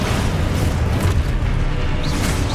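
A blasting spell explodes in a wizard video game, a dense rumbling boom that sits high in the mix and is followed by crackling debris.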